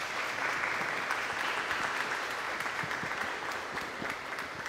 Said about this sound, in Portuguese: Vamos aplaudir, né?